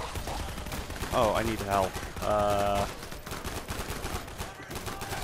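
Rapid automatic gunfire from the Garry's Mod video game, a survivors-versus-zombies horde fight, rattles continuously in dense bursts while a person speaks briefly over it.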